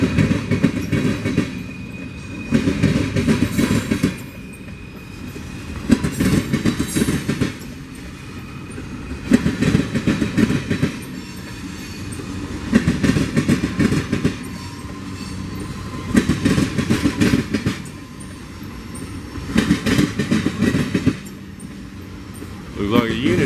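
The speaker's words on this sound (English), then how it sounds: "You can hear them wheels running over it." Freight tank cars of a unit train rolling over the Sandpoint railroad diamond crossing, their wheels producing loud rhythmic clattering bursts in repeating groups as each car passes, close by, with someone speaking at times.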